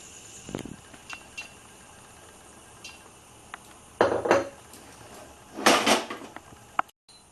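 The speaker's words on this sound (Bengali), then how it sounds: "আমি এবার কড়াই তেল দেব" A metal wok is handled on the stove while oil is added for prawn Manchurian: a few scattered clanks and knocks, then two louder bursts of rattling metal against a quiet kitchen background.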